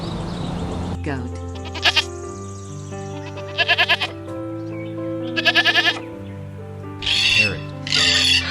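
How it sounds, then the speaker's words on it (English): A goat bleats in three short, wavering calls spaced a couple of seconds apart, over steady background music, with brighter bursts near the end. "Goat."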